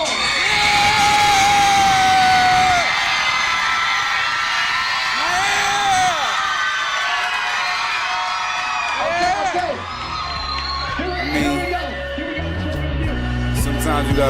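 Loud, sustained cheering and whooping from a big audience at a dance crew battle, with shrill screams and yells swelling in waves before music with a heavy beat starts underneath.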